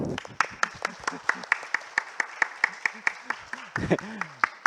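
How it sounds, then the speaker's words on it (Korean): Steady, rhythmic clapping from an academic conference audience in a regular beat, sharp and fairly close, with voices talking and calling out underneath. "이쯤에서 박수 한번"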